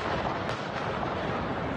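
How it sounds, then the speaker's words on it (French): Gunshots ring out in Vienna's city centre during an attack near a synagogue, a dense, loud, continuous rumble of reports with sharper bursts near the start and end. "plusieurs coups de feu retentissent dans le centre-ville de Vienne"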